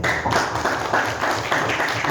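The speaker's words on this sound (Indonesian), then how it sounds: "Kasih tepuk tangan." Brief burst of audience clapping at a church youth dialogue, fairly close and uneven, with loose rhythmic pulses and some chatter mixed in.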